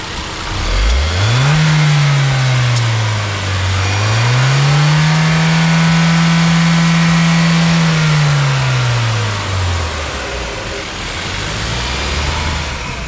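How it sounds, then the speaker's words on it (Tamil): A Hyundai Creta N Line SUV engine revs up loudly nearby, holds a high steady whine, drops back, then climbs again briefly. "கொஞ்சம் ரேஸ் பண்ணி பார்க்கலாம்."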